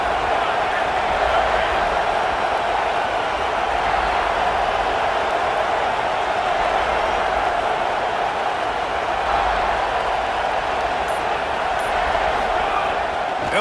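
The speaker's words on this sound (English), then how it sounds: "This crowd bringing an ear-splitting welcome to their visitors" Stadium crowd at a college football game between Kentucky and South Carolina, in a video game: a dense, steady roar of many voices holds loud and unbroken throughout, with no breaks or peaks.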